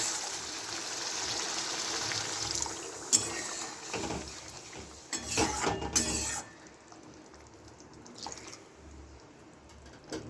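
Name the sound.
pouring a little water into the dhoka curry pan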